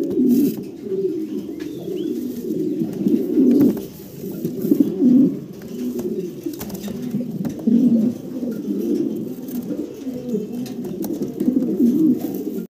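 Fancy farm pigeons coo in low, throaty, rolling bursts that repeat steadily, several birds close by and fairly loud, with faint chirps in the background and no speech.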